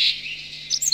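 A couple of short, high bird chirps in a forest over a quiet background, one at the start and another near the end.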